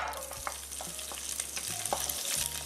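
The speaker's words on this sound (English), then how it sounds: "we will stir fry the garlic and onions until it is lightly brown" Garlic and onions sizzle steadily in hot oil in a pan for a Chinese-style stir fry with tofu, veggies and pork, with occasional spatula scrapes and clinks punctuating the continuous frying hiss.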